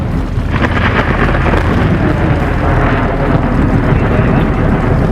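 A thunderstorm rolls over Lake Borumba, with heavy continuous rumbling, rain and wind buffeting the microphone, loud and sustained from an open boat on the water.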